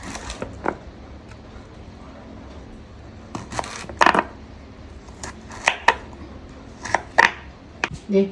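Knife chopping elephant foot yam into pieces on a cutting surface, sharp irregular close thuds and clicks, sparse at first and then coming more often, against a quiet room.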